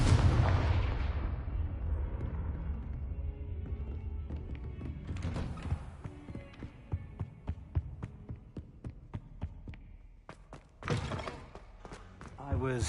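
Confringo fire spell explosion in Hogwarts Legacy on PS5: a loud booming blast that rumbles and fades, followed by scattered game impacts, crackles and a later sharp burst.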